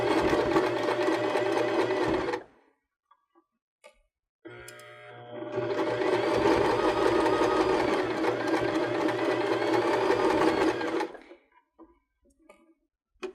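A Baby Lock BL9 sewing machine basting pom-pom trim at a 2.5 stitch length with a zipper foot: two steady runs of needle whir, the first about two seconds, then a pause and a longer run of about six seconds, sewn slowly.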